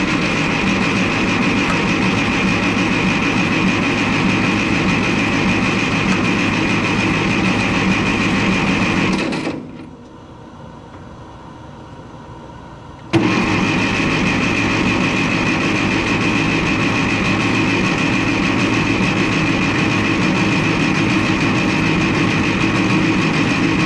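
A Ferguson TO-30 tractor engine runs loud and close with a steady rumbling chug, cuts out abruptly for a few seconds, then restarts and keeps running evenly.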